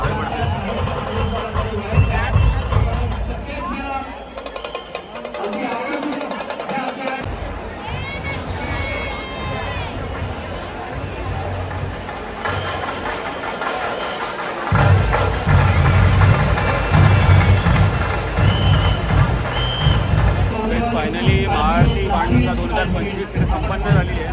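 Crowd chatter and hubbub from a dispersing gathering after the Banganga Maha Aarti at Walkeshwar, a steady dense murmur of many voices nearby with louder, busier stretches toward the end.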